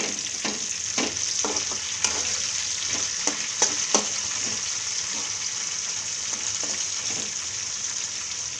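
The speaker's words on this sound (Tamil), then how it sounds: "அதுக்கப்புறம் கருவேப்பிலை போட்டுடணும்." Curry leaves crackle and sizzle in hot oil with garlic and ginger, a steady close frying hiss punctuated by sharp pops and occasional stirring scrapes.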